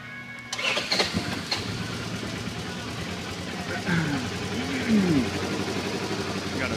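A 2011 Polaris RZR 900XP LE side-by-side with 975 miles cranks and catches, then settles into a steady close idle while someone talks over it.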